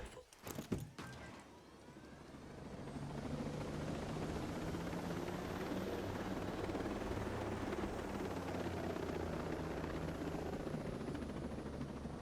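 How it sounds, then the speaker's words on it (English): Helicopter in the video game Ghost Recon Breakpoint, a sharp burst of clatter at the start, then a steady, loud rotor and engine roar that swells and holds for the rest, with no talking. "Where'd the helicopter go?"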